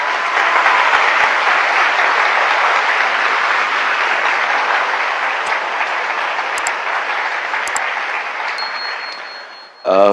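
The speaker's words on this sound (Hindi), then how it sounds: "क्या हम सब मिलकर यीशु के लिए ताली बजा सकते हैं?" A church congregation claps together for Jesus, dense sustained applause from a large crowd that holds steady for about ten seconds, then fades, ending with a brief ringing tone.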